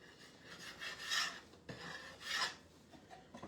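Wax is scraped off a wooden garden sign in two rasping strokes, close and quiet, each swelling to a gritty scratch before a brief pause, with no voices.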